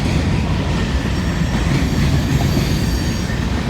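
A long freight train rumbles past close by, a steady heavy roar of wheels on rails with faint metallic squeal, continuous throughout.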